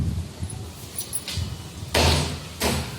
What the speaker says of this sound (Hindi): दरवाजे की आवाज़ आप सुन सकते हैं